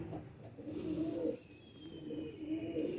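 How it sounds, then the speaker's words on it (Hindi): A golden makar pigeon resting in the shade gives two rolling bouts of low cooing, close and fairly loud, with a short pause between them and no talking. "ये गोल्डन का मकर कबूतर है"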